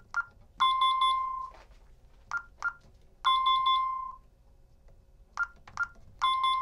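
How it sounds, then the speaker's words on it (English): An alarm panel keypad beeping as report codes are programmed: repeated sharp electronic beeps in clusters, some short single chirps and some longer tone runs, close and clear with no talk. "I'm just pressing down the zero until I hear the three beeps"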